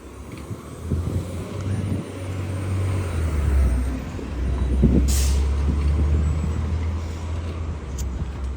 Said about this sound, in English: All the buses are out.